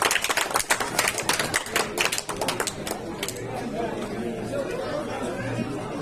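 Audience applause at a pigeon flying tournament prize distribution: many hands clap in a dense, close burst for about two seconds, then the clapping thins into a steady murmur of crowd chatter.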